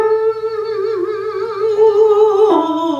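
A singer's voice imitates a squeaky creaking door on a closed-lip ooh vowel, a sustained wavering tone starting low and sliding upward, solo and close.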